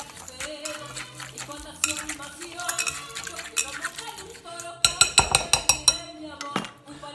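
A fork squishes and mixes backstage guacamole in a bowl, making repeated close scraping and clinking taps that grow louder and quicker toward the end, with music playing in the background.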